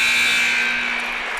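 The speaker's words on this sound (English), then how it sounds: "It's the final buzzer for this game." A loud, steady electronic buzzer sounds the end of a girls' high school basketball game, one sustained blast that fades slightly over its length.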